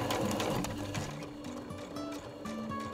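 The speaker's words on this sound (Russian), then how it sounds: "Заканчиваем с апгрейдом масок и подшиваем края," Sewing machine hemming the edges of fabric face masks, a steady close mechanical whirring with repeated stitching bursts that pause and restart, heard alone.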